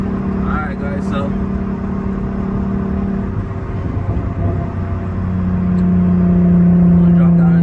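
A boosted car engine, turbo turned up after a fuel fix, drones steadily from inside and then climbs in pitch and loudness toward the end as it revs and accelerates, with tire spin expected; a voice talks over the engine.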